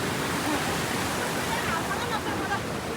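A river flows in the hills, its water rushing in a dense, steady hiss that stays loud and constant with no pauses.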